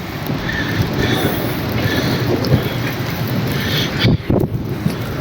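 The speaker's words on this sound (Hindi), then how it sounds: "बारिश बहुत ही तेज़ है" Heavy rain pours steadily outdoors on the walk back to a village from a wedding, a dense continuous roar close to the microphone with wind buffeting, and a brief louder gust or clatter near the end.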